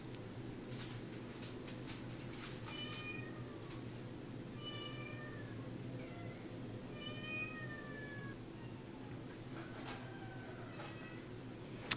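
Orange tabby cat at a rescue meowing repeatedly, several drawn-out plaintive meows spread over the stretch, fairly faint over a low steady background hum.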